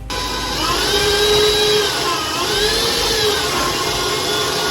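An electric mixer whirs continuously as eggs are mixed into batter, its steady motor whine shifting slightly in pitch as the beaters work, close and loud with no talking.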